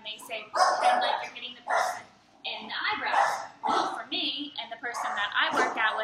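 Dogs, including an English bulldog, bark in short repeated bursts close by, sounding intermittently under and between a woman's speech.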